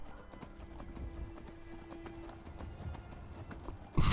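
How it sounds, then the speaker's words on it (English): Horse hooves clip-clop at a slow, steady walk in Skyrim, soft and moderately close, under a quiet game ambience, ending with a brief louder thump. "This is the slowest horse I've ever seen in my life."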